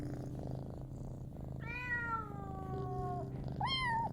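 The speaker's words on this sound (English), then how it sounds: "Just a few cat noises there" A cat meows twice, drawn-out and plaintive, then shorter and higher, close and clear over a low steady background hum.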